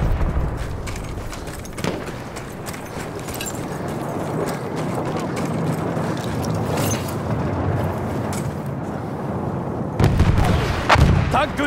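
Artillery fire in the video game Battlefield 1, repeated heavy booms and sharp blasts over a constant rumbling battlefield din, with a loud burst of impacts near the end.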